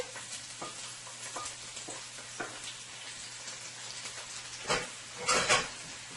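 Chicken, cabbage and carrot stir fry is tossed in a pot, giving quiet scattered sizzling with a few soft scrapes and a louder clattering burst near the end.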